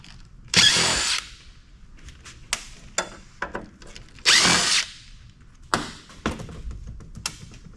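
A power drill fitted with a socket whines in short bursts against corroded bolts on a grimy old computer, two longer spins and several brief blips separated by quiet gaps, close and loud.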